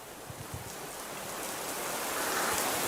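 Steady rain falls in a soft, even hiss that swells slightly louder over a few seconds, with no one speaking.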